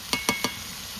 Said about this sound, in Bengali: জিরে, ধনে, মিট মশলা, কাশ্মীরি আর লাল লঙ্কার গুঁড়ি একসঙ্গে আমি কিন্তু দিয়ে দিচ্ছি